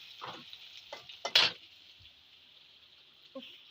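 Bele fish cooking in a pan gives a thin continuous sizzle, with a few short scraping knocks from a utensil near the start and one soft clink near the end.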